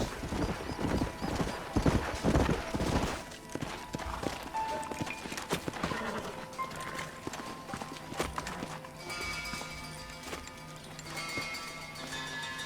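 Horses' hooves clip-clop steadily over ground in the video game Red Dead Redemption, a busy rhythm of several animals that slows and thins out, with faint musical tones joining later.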